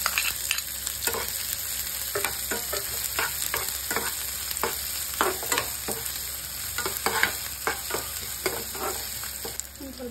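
Chopped onion and mustard seeds fry in hot oil, producing a steady, close sizzle broken by frequent scraping stir strokes, with no talking.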